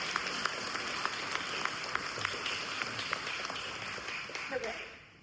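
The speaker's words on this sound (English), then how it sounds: "stand up to thunderous applause just for a half a second" Applause from the audience at a book talk in a speaker series at Biddeford Pool, made up of steady clapping with some sharper individual claps, fairly soft and fading away near the end, with a few voices under it.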